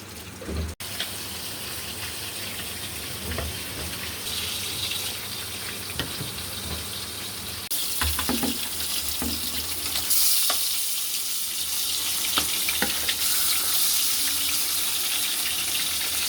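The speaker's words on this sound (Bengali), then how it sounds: "এখন আমি পেঁয়াজগুলোকে ভেজে নিচ্ছি" Onions frying in a pan for a fish and papaya curry, a steady close sizzle that grows brighter partway through, with occasional clinks and stirring scrapes.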